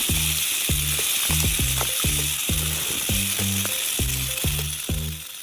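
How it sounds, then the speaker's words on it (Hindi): A rattlesnake shakes its tail rattle. It makes a loud, continuous dry buzzing hiss, overlaid by a quick series of low, regular thumping pulses. No voices. "जब भी रैटल स्नेक अपनी टेल को हिलाता है तो उससे अजीब तरह की आवाज"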